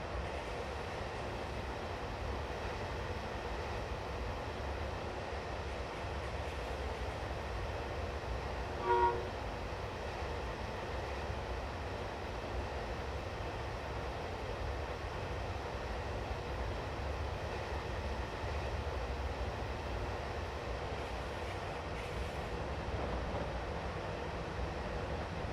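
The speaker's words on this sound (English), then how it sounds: "That's what we are taking, folks, the Class 91. Absolutely fantastic loco. We've got the MK3 coaches" A Class 91 locomotive hauling MK3 coaches in Train Simulator Classic, with a steady low rumble and continuous rolling noise throughout and a brief tone near the start, no one talking.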